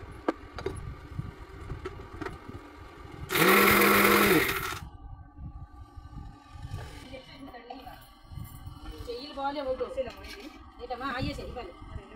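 A mixer grinder whirs loudly in a short burst of about a second and a half while grinding carom seeds, cumin, rice, dried red chillies and garlic coarsely, with quieter kitchen sounds and talking before and after.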